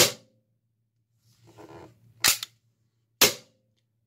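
A Smith & Wesson M&P9 airsoft gas pistol fires two sharp, loud cracks about a second apart, each with a short metallic slide clack, after some quieter handling noise and a low steady hum.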